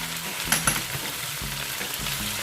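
Ginger and onion sizzle steadily in hot oil in a pan, a constant close crackling hiss with a few soft stirring knocks and clinks and no talking.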